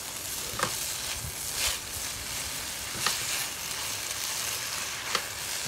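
Coriander seeds, cloves and spices sizzling in a pan for a vegan wild mushroom Penang curry, a constant close frying hiss broken by several scraping stir strokes.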